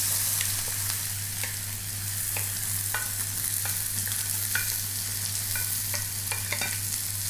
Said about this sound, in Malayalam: ചേന ചേർത്തിട്ട് നന്നായിട്ടൊന്ന് വഴറ്റിയെടുക്കാം